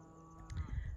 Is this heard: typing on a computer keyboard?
no